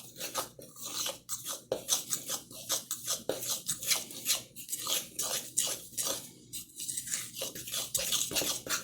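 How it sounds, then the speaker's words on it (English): A fork works flour and oil together in a bowl for a pot pie crust, giving rapid, scratchy scraping strokes in an uneven rhythm, close and fairly quiet, with no voices. "all that dry flour incorporated in with that oil using a fork"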